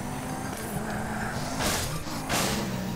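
Car engine and road noise in Grand Theft Auto on PC, a steady loud drone with wind hiss that surges twice as the car speeds along.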